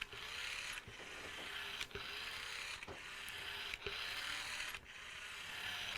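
A LEGO 4.5 volt blue train motor runs with a steady whirring drone and a mechanical gear clatter, broken by regular sharp clicks about once a second, close by and alone.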